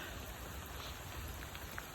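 Steady rain falls through woodland along a main path, a dense continuous hiss with occasional brighter drips landing nearby, no voices.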